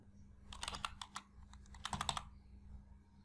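Keystrokes on a computer keyboard while entering numbers into a spreadsheet, two quick bursts of clicky taps close to the microphone over a faint steady hum.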